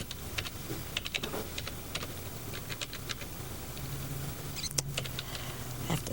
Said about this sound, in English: You get to be pretty good at typing.